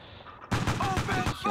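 A cannon fires in a video game: a sudden loud blast after a quiet moment, followed by a dense burst of gunfire-like reports.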